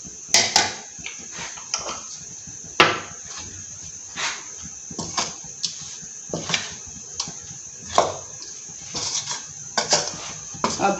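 Pakora batter being stirred in a bowl, a series of close, irregular clinks and taps of a spoon against the bowl, scattered quick knocks with soft scraping between them and no talk.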